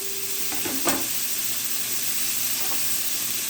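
Bacon sizzling steadily in a frying pan, a continuous crackling hiss with a brief clink near the start.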